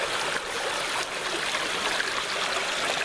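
Rain runoff running as a small stream outdoors on a hiking trail, a steady close rushing and trickling of water that continues throughout without any voices.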